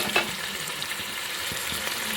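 Tomatoes hit a hot pan and fry for a Rayalaseema-style bagara rice, making a steady, fairly quiet hissing sizzle with a small clink near the start and a few faint knocks.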